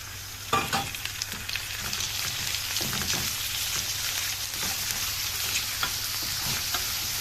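Chicken gizzards frying with onion in a pan give a steady, close sizzle, with a few louder crackles and stirring scrapes over the continuous hiss and no voices.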